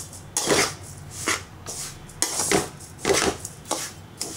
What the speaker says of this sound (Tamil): கொஞ்ச நேரம் வறுக்கலாம்.